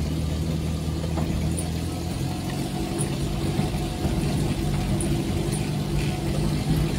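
Trucks rumble along a broken, damaged road at a Merapi sand mine, a continuous low engine drone with shifting intensity, heard close by without talk.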